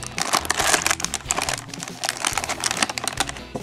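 Plastic packaging of a 2003 Gundam SEED Launcher Strike Gundam special model kit is opened close by, with dense crinkling and rustling and bursts of tapping and clicking, and no talking.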